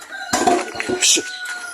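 A chicken clucks and squawks close by in a short burst of several calls, with a faint steady hum in the background.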